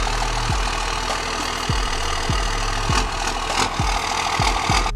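A lifted Dodge Cummins diesel truck engine runs loud and close, a deep steady rumble with a sharp knock recurring about every half second.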